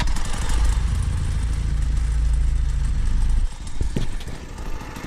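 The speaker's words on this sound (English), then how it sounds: "It's probably flooding out because there's so much race fuel in it from the last call out." An engine running rough and flooding on race fuel gives a loud, uneven low rumble for a few seconds, then drops off sharply near the end with a few faint knocks.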